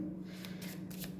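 Tarot cards are shuffled and drawn in a brief, soft flurry of papery riffles and flicks, quiet and close, with no one speaking.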